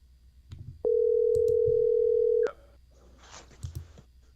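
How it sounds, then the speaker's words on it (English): An outgoing phone call produces a single long, steady ringing tone lasting under two seconds, loud and close, with faint room noise before and after. "Can y'all hear that ringing?"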